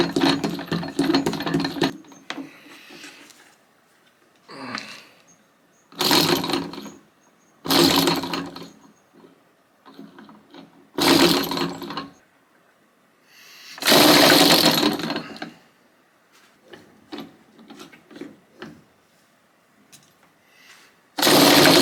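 A homemade rotary vane engine prototype sputters in repeated short bursts of loud, rough mechanical running, separated by pauses of quiet clicking and rattling, close to the listener.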